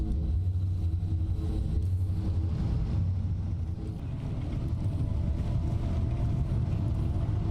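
A car in the video game Pacific Drive cruises along steadily with a continuous low engine rumble and road drone, close and loud, with no talk over it.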